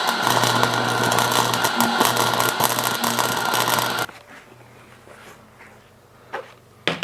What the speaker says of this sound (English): We're going to do a little bit of light welding.